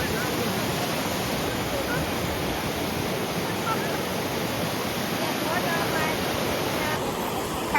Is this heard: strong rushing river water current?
yes